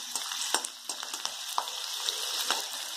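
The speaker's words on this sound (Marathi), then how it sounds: "थोडंसं लसूण, तेला फुलून घ्या." Garlic frying in hot oil with a bright, continuous crackling sizzle and sharp spattering pops scattered across the short stretch, close and fairly loud.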